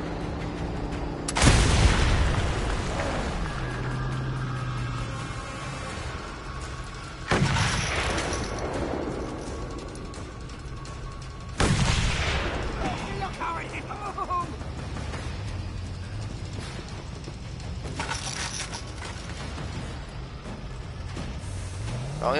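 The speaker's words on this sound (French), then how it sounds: "C'est quand même malheureux de devoir employer le fusil pour faire ça" Mad Max video game combat with rifle gunfire and explosions: three loud booming blasts at wide intervals, each decaying into rumbling debris and engine noise, with smaller cracks and clatter between them.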